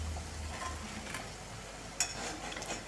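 Potato pancake toasts fry in hot oil, giving a steady soft sizzle and crackle close by with an occasional light tick from the pan and no talk.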